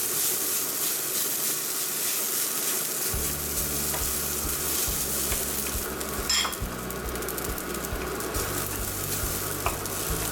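Shrimp and egg fried rice being stir-fried with no oil in a wok, a steady broadband sizzle with scraping stir strokes, a low rumbling hum joining after a few seconds and a few sharp clinks near the middle.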